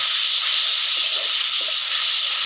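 Turmeric, chili powder and salt sauté in hot oil, a loud, continuous, bright hissing sizzle that stays steady and close throughout before cutting off abruptly.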